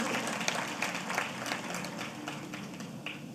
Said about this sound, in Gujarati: એવા આચાર્ય દેવવ્રતજીને ફરીવાર જોરદાર તાળીઓથી વધાવીએ.